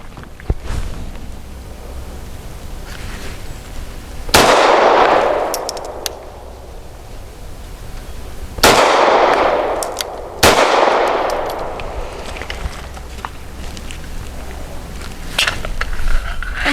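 A SAR USA P8L pistol fires 124-grain rounds in three loud, sharp shots with ringing decay, the second and third close together, spaced across a quiet outdoor range.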